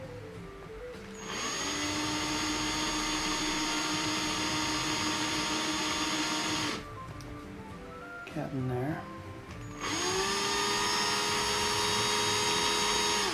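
A power drill fitted with a tiny bit whines steadily while boring into a miniature figure, running in two long bursts separated by a short pause with a brief remark from a person nearby.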